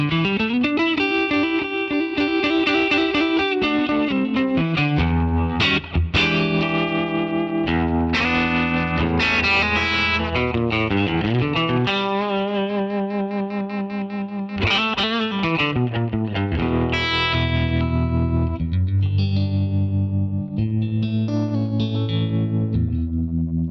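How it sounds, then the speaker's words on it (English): Electric guitar played hard and loud through an amp block's bias tremolo, sounding distorted and effects-heavy with sustained chords and notes pulsing throughout, up close and alone. "You can really hear the magic of the bias tremolo in there when I was playing hard and loud."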